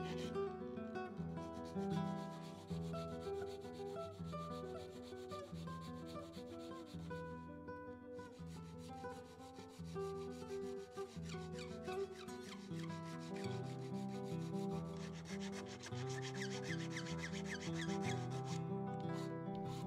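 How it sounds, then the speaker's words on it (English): An antler arrow nock being sawn and filed by hand for a bamboo arrow, with steady, close rasping strokes in a continuous back-and-forth rhythm and occasional squeaks, and no talking. "I'll be sawing out the nock first, and then expanding it with files"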